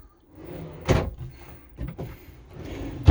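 A big kitchen drawer in a Rapido C55i motorhome slides open with a rolling rumble and sharp knocks, then a second thud and a final bang as it stops.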